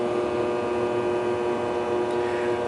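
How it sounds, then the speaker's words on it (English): Steady electrical hum from transformers on the forward main deck of the cruiser USS Little Rock, a constant tonal drone with a faint mechanical background and no talking. "Sorry if you hear those transformers in the background"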